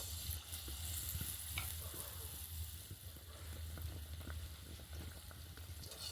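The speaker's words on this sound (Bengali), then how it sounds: "আবারও তেলের মধ্যে ছেড়ে দেব" Batter-coated ripe banana fritters frying in hot oil, a soft continuous bubbling sizzle with faint clicks, fairly quiet and even throughout, no talking.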